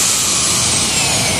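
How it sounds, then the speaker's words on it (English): A Ryobi reciprocating saw's motor runs at a loud, steady, high-pitched whine with a constant buzzing hum, close by and unbroken throughout, without any talking. "It's a Ryobi reciprocating saw."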